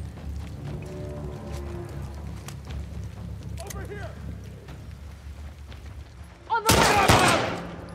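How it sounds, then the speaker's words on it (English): A loud burst of gunfire in The Last of Us Part II breaks in near the end, after quieter game ambience with soft chirping sounds, and a voice can be heard briefly. "Where are you shooting me from?"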